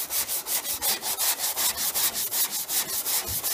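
Evercoat EasySand body filler being sanded with a P120 abrasive block, a crisp, rhythmic back-and-forth scratching in even strokes, close and clear with no talking.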